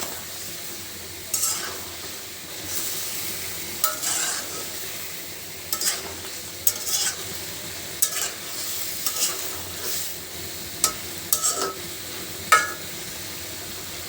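Taki fish frying in a pan with bottle gourd gives a soft, steady sizzle, broken by repeated scraping stirs of a utensil against the pan at irregular intervals, with no voices.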